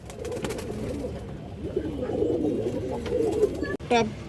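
Pigeons, including a pure green-necked female, coo in repeated low, throaty phrases close by, with a brief sharp interruption near the end.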